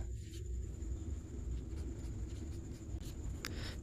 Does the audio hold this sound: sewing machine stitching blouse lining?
no